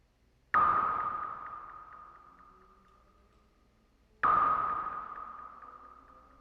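Two bright, resonant pitched synth tones strike about four seconds apart, each ringing with a filtered, ping-like edge and slowly fading out; the pitch comes from filter resonance on noise.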